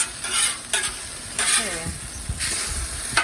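Apricot and cream cheese stuffed French toast fries on a griddle, giving a steady close sizzle broken by a few spatula scrapes and short hissing surges.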